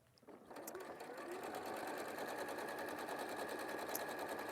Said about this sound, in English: sew 2 sewing lines, one on either side of that marked line